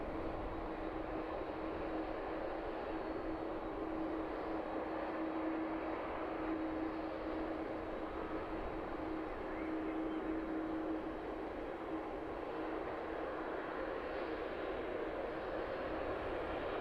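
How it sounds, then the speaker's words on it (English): A Boeing 767 taxiing toward the start of runway 27 at an airport, a distant steady jet engine rumble and whine that holds evenly for the whole stretch. "the 767 making its way down towards the start of the runway there"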